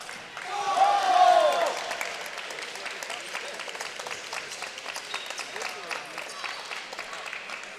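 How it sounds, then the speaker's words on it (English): A crowd at a college coed team table tennis quarterfinal in Texas bursts into applause and cheering, peaking early and then settling into scattered clapping and loose crowd noise under talk. "You can hear the crowd helping Texas."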